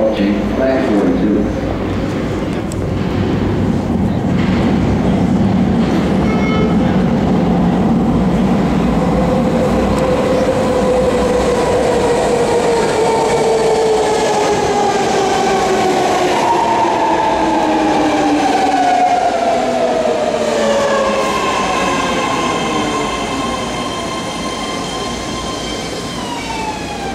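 A BART train pulls in at a platform with a loud rumbling approach, metallic wheel squeals gliding down in pitch and a clickety rhythm, while a platform announcement voice plays over the arrival before the noise eases slightly.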